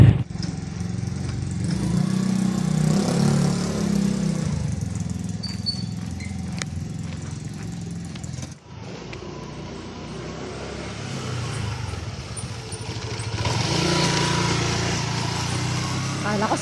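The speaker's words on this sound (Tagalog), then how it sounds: "ito yata yung motor ni Father" A small motorcycle engine, belonging to a priest, idles and revs nearby in a steady drone, fading briefly midway before swelling again, with people talking over it.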